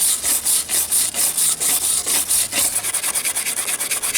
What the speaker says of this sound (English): I remove the soot with a brush.